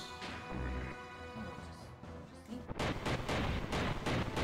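An explosion in the video game Xenogears hits as a heavy burst of impacts after softer battle sounds, several loud percussive blasts in quick succession.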